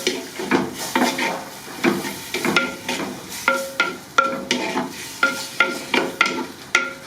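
Grated carrot browning in a clay pot for chuño and white corn soup: a rhythmic series of scraping, clacking stirs of a spoon against the pot, about two per second, loud and close over a soft background sizzle.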